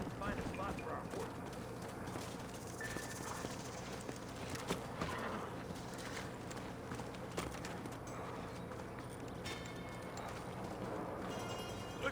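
Horse hooves clip-clopping at a walking pace in the Western video game Red Dead Redemption 2, a steady rhythmic clatter under game music and ambience, with voices talking over it.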